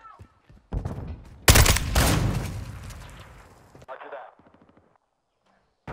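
Video game gunfire comes as a loud burst of rapid shots and a long crackling roar. Quieter clatter follows, and a voice can be heard briefly near the start.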